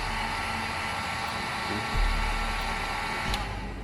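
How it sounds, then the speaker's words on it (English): A heat gun blows hot air to melt wax into a liquid for waterproofing a backpack, a steady close whirring roar with a brief low thump partway through. "I'm going to go ahead and melt it down here with the heat gun, turn it into a liquid"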